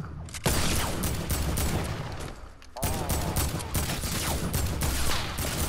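Sustained rapid gunfire from a gun in a shooting video game, loud dense bursts with a short lull before firing resumes, filling the whole stretch.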